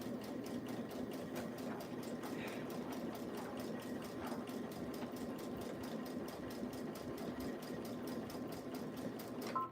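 A sewing machine stitches a tee top in a fast, steady run of needle strokes lasting the whole stretch, moderately loud and close, with no talking over it.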